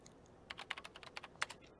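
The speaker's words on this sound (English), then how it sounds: "As I explained my theory to Remy, I kept on typing keywords into the search engine, but nothing was coming up" Rapid computer keyboard typing in the video game Chaos;Head Noah, a quick irregular run of light key clicks, close and alone, ending with a sharper tap.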